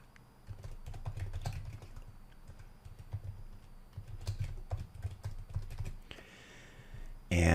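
Rapid keystrokes on a computer keyboard, fairly close and moderately loud, clattering in irregular bursts over several seconds with short pauses, then a brief louder rustle at the end.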